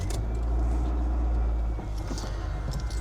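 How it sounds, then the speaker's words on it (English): A manual Acura Integra DC4 idles steadily right after starting, its low, even engine rumble close and continuous throughout with no talk. "Let's go ahead and get this thing started up."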